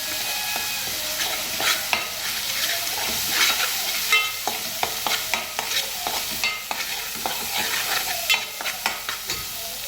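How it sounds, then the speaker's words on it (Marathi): Red chili powder and spices being sautéed and stirred in a pan for a Rawas fish curry, with steady close sizzling frying and repeated scraping stir strokes throughout, no voices. "हे मसाले सगळे चांगले परतून घ्यायचे."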